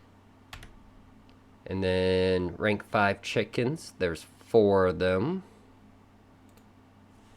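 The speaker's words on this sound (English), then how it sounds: "as I'm typing this in" Keys clicking on a computer keyboard while data is entered into a Raid Shadow Legends offer calculator, light taps scattered under continuous close speech.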